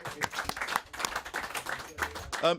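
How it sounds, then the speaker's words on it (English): Brief scattered clapping from a small studio audience during a football talk show, a few seconds of light applause with voices mixed in throughout. "Give him a round of applause."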